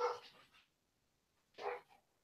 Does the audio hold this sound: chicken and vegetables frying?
no